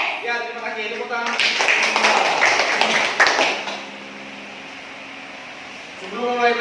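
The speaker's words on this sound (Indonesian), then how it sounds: "Tepuk tangan." Schoolchildren in a fourth-grade primary classroom clapping together on cue, a loud burst of hand claps lasting about two and a half seconds between stretches of voices.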